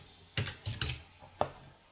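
Keys on a computer keyboard are tapped in a few short, separate clusters, close and fairly quiet, while a person types an entry into an Access database table.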